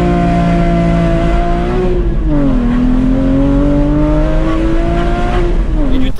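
Porsche Cayman GT4 with a complete IPE exhaust pulls hard through the revs, the loud, close engine note rising, dipping briefly at a gear change, then climbing again before another shift near the end.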